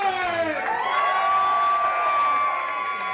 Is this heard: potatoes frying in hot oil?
no